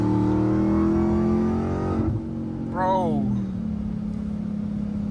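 A Ram TRX pickup truck's engine rumbles loudly through its exhaust in a steady deep drone, dips, then swells in a brief rising rev before settling back to a heavy idle, with a voice exclaiming over it.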